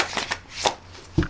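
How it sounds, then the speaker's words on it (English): Tarot deck being shuffled and riffled, a few quick close papery flutters and taps in a short burst, with no talking. "let's get another shuffle on the deck"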